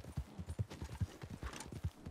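Horse hooves clip-clop in a steady trotting rhythm in the video game Red Dead Online, close and clear, with no talk over them.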